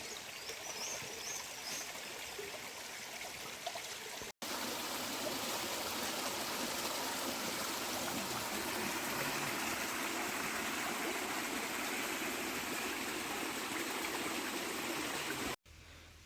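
Stream water rushes loudly and steadily, a constant close-up flowing roar that runs without a break the whole time.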